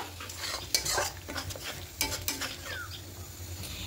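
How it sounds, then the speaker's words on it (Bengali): Fish curry of katla being stirred in a pan after water is added, with a steady soft sizzle under repeated scraping and clinking of a spoon against the pan. "এবার মিষ্টিতে জল দিয়ে জলটা দিয়ে দেবো। একটু ভালো করে একটু কষিয়ে নেব।"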